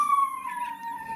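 A dog named Pepper gives a single sustained, wavering howl, close and fairly loud, sliding slightly downward in pitch and heard alone.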